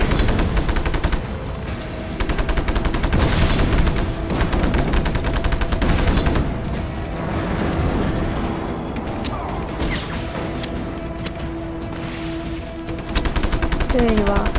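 Rapid bursts of automatic gunfire and scattered shots from the Just Cause 3 video game, dense and loud throughout, with booming impacts layered beneath the steady crackle of fire.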